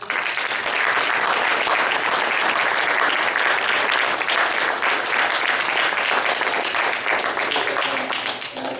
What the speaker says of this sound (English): please a round of applause for all work